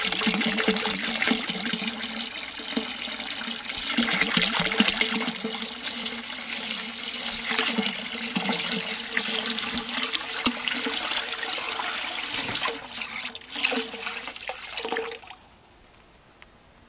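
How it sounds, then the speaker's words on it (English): Water gushes steadily from a self-closing state-park-style faucet into a gallon jug for about fifteen seconds, then cuts off abruptly, leaving quiet background hiss. "I'm going to use my standard state park style self-closing faucet to refill my jug."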